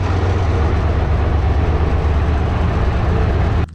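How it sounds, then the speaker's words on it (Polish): Ursus C-360 tractor engine running steadily, a loud, continuous low diesel rumble that holds even throughout before cutting off abruptly near the end. "Mogę ciągnik wprowadzać."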